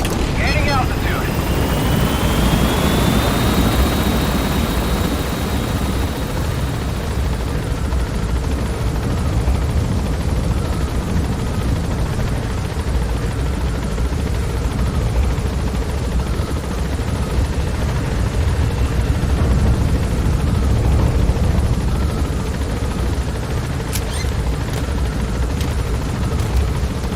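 Helicopter in the video game Metal Gear Solid V climbing, a steady loud rotor and engine drone running throughout, with some talk mixed in beneath it.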